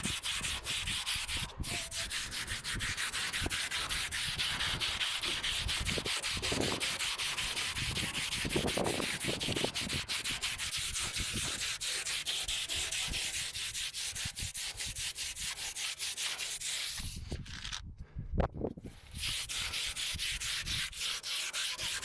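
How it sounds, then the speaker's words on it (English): Worn sandpaper lightly scuffing a plastic car bumper by hand, a steady, close, continuous rubbing rasp that runs the whole way through with no talking. "I'm taking my worn out sandpaper and I'm gonna lightly scuff the plastic"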